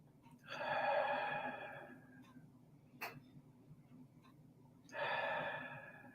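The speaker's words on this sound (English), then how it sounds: "Just deep breathing." Slow, deep meditative breathing heard close and faint, two long drawn breaths several seconds apart with a brief click between them in a quiet room.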